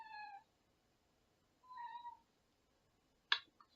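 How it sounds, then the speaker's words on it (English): A kitten meows for attention in a quiet studio, three short, separate mews spaced apart, soft and fairly close, with nothing else in the background. "I have a kitten in my studio that is looking for my attention."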